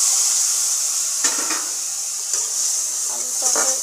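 Potatoes go into hot oil with cumin, nigella, fennel and ginger in a wok, giving a steady, bright sizzle with a few louder bursts of crackling as they hit and are stirred.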